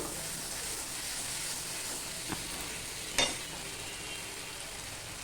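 Crab curry masala sizzles steadily in a pan as it is sautéed, a broad continuous frying hiss with a couple of sharp spoon clicks against the pan, close and alone.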